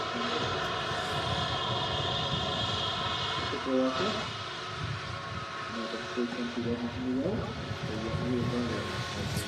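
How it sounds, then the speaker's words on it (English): A Turkish Airlines A321neo or Aer Lingus ATR 72 at Manchester Airport, a continuous engine drone with tonal whine layered over it, under intermittent talk. "What a way to kick today's show off with the Turkish Airlines A321neo and also an Aer Lingus ATR 72."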